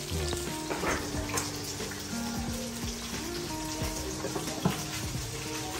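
Tilapia fries in hot oil with a steady, soft crackling sizzle punctuated by small pops, fairly quiet and close, with no voices.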